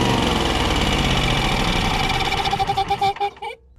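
A damaged Generac generator engine runs loud and steady up close, a rough rattling drone that begins to sputter and falter near the end before cutting out.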